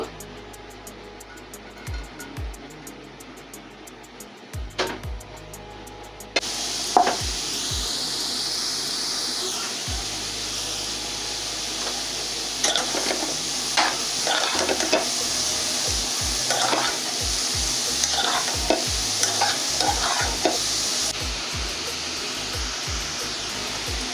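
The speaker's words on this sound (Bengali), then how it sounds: "তারপর আমি ঘিয়ের মধ্যে এই গাজরটাকে ভালো করে ভেজে নিব" Grated carrot fries in ghee in a pan for halwa. A low, steady hiss grows louder partway through, with occasional stirring scrapes and clicks close by. No one speaks.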